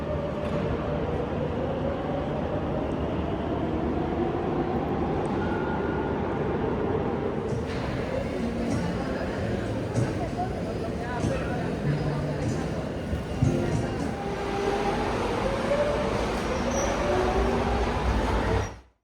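Aboard a Madrid Metro train, the ride rumbles and hisses steadily with wheel and track noise, a slight rise and fall as the carriage moves and occasional faint squeals, for about twenty seconds.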